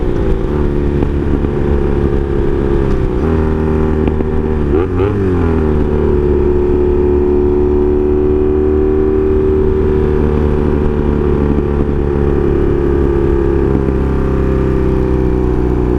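A Honda Magna VF750C motorcycle with a loud exhaust idles close, then revs up with a rising growl and settles into a steady, throaty exhaust drone.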